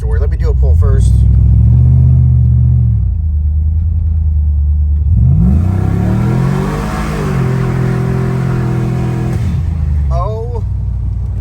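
A boosted Chevrolet Silverado truck makes a loud full-throttle pull close to the microphone, its engine note climbing and dropping through several gear changes.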